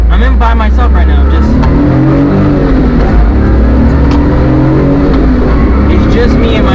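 A Daihatsu Midget, a one-seat rear-wheel-drive microcar with a four-speed stick shift, drives with its small engine droning steadily and loudly up close, under a constant rush of wind and road noise.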